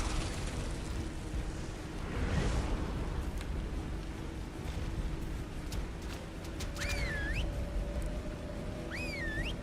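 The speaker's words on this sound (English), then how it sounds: "Let me see if I can't try to whistle attack target on her." Attack-target whistle command in Ark Survival Ascended: two short warbling whistles near the end, rising and falling in pitch, over a steady rumbling game ambience.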